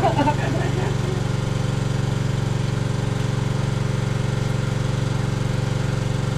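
A large grass cutter engine mounted on a motorcycle runs at a steady, buzzing idle throughout, loud and close, with a brief voice at the start.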